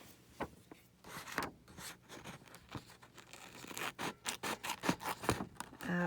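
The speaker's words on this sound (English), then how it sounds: "And then we'll just trim out around everything." Scissors trimming around paper specimen cards, giving close, quiet snipping and rustling paper scrapes that grow into a quicker run of cuts toward the end.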